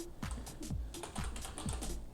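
Rapid keystrokes on a computer keyboard as commands are typed into a Linux terminal, a steady run of close, crisp clicks and taps with no talking.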